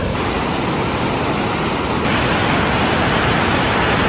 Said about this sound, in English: The water is so strong right now because of how much rain we got.